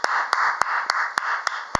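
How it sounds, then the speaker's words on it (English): A church congregation claps hands for Jesus in a steady, evenly spaced beat of sharp claps, heard over a sustained background of music and crowd sound. "Clap your hands for Jesus."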